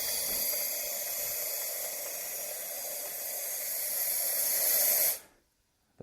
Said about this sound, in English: So I'll just let some steam come out.